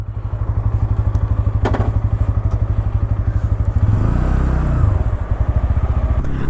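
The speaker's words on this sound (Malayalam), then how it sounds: "നമുക്ക് ബൈക്ക് എടുത്തിട്ട് പോയാലോ, റോഡിലോട്ട് പോയിട്ട് ഇതിൻ്റെ ബാക്കി കാര്യങ്ങളൊക്കെ പറയാം" A Bajaj Pulsar N160 motorcycle engine idles with a rapid, steady thumping beat, then revs up and pulls away, the pitch rising as it goes.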